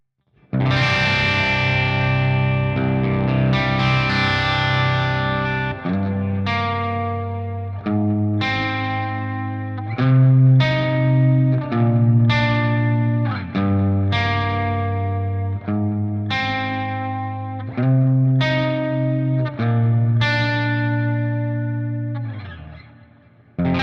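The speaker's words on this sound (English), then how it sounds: "Got some reverb and delay on there, nice crunch sound." An electric guitar plays crunchy, lightly distorted chords with reverb and delay trailing each strum, the notes ringing out in a steady rhythmic pattern.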